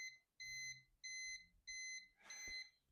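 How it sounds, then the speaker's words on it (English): Digital Designs DM2500a amplifier on a dyno giving an idle warning: four evenly spaced electronic beeps, each about a third of a second, quiet and clear, the last one overlapped by a brief clunk. "that beeping means it's been idling too long"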